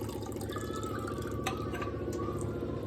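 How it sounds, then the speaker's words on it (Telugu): Drops of negative ORP liquid falling into tap water in a test glass, small close drips under a low steady hum, with a few sharp ticks. "ఇక్కడ డ్రాప్స్ పడుతున్నాయి"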